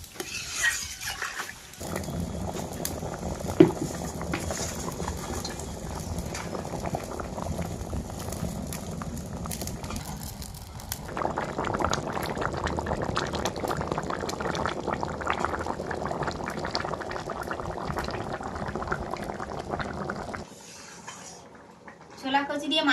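Taro and chickpea fish curry bubbling after water is added, a continuous watery boil and simmer with drips and stirring, with talk over it in places and a break near the end.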